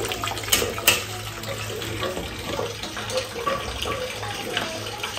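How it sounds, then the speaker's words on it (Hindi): Paneer is rinsed under a running tap, giving a steady, close splashing and gushing of water that continues without a break. "ये हमारे पनीर अच्छे खासे धुल रहे हैं।"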